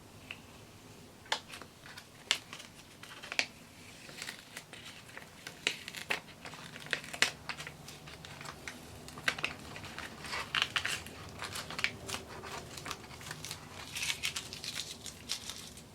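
A backing layer is peeled off a full sheet of stickers from a vintage craft kit, heard as close, irregular crackling and crinkling snaps spread across a quiet background.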